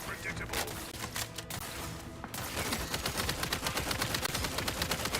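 Rapid automatic gunfire from a weapon in The Outer Worlds 2, a dense, loud stream of close shots with a brief lull before resuming in a steady fast rhythm, with talk underneath.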